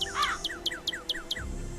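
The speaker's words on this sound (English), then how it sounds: "Just cardinal noises." A cardinal in the Nancy Drew game Ghost Dogs of Moon Lake calls in a quick series of about six clear, sharp down-slurred chirps at a steady rhythm over a faint outdoor ambience.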